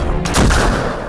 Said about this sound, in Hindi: एलओसी से सटे गांवों में रहने वालों पर पाकिस्तान की फौज गोलियां बरसा रही है